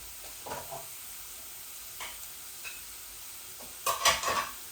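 Chicken frying in a pan with panch phoron and garam masala, a faint, steady sizzle running throughout, broken by a few soft stirring scrapes and a louder clattering stir near the end.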